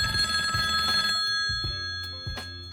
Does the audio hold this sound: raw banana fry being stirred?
no